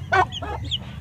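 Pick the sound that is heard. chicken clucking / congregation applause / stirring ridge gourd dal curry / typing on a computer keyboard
chicken clucking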